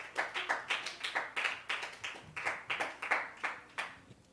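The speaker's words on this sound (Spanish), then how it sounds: "Denle un aplauso al Señor." Congregation at a church service clapping in a steady rhythmic beat, sharp hand claps repeating about twice per second, fairly close and moderately loud with no talk over them.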